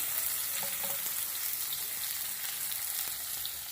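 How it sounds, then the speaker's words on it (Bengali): Continuous crackling sizzle of onions frying in oil, close and steady, with light spattering pops and no voices. "পেঁয়াজটা দিয়ে দিই ভালো করে ভেজে"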